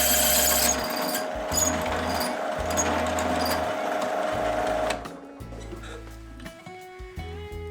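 A power drill fitted with dull bits bores into material for a scratch-built model lantern, whirring and grinding in uneven bursts that start and stop repeatedly, close and loud with no talking.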